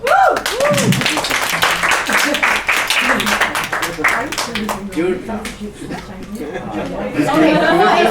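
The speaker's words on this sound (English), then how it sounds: "So let's give a round of applause to Jude Lim." An audience applauds a speaker being introduced at a talk on human relationships, scattered clapping mixed with crowd chatter and a chuckle, while a voice speaks over the noise throughout.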